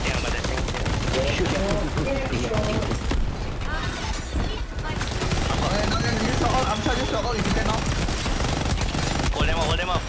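Continuous bursts of automatic gunfire crackle through a first-person shooter match, dense and loud, with players talking over the shooting.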